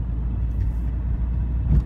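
Opel Zafira 1.9 CDTI 120 hp diesel engine running on a road test drive, a steady low rumble heard from inside the car with no speech.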